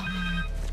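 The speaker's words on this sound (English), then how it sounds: "Connors' cell phone." A short burst of Connors' cell phone ringing in the superhero game Marvel's Spider-Man 2, a bright electronic ringtone heard briefly before it fades into the background.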